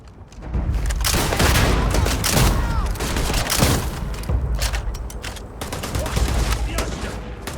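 A firefight in the video game Starfield, with rapid bursts of gunfire and heavy thuds crackling close and loud in dense clusters, briefly easing before resuming.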